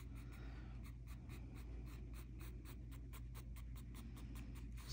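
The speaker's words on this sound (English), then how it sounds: "I'm going to go ahead and connect them lightly with my pencil" A pencil draws light lines on paper, a soft rhythmic scratching of repeated strokes, close and quiet, with no speech.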